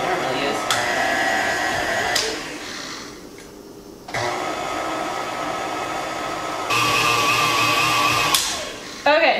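An electric hand mixer whirs loudly through soft butter for cupcake batter, its motor pitch shifting and briefly dropping off before resuming strong, with a person talking now and then.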